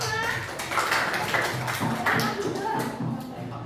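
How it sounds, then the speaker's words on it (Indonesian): A classroom group claps together in a steady patter of many hands for a student team, with a few voices murmuring underneath. "Tepuk tangan untuk kelompok 5."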